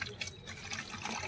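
Radiator coolant water pours into a bottle, a faint, continuous trickle and splash of liquid with small drips, heard up close at low volume.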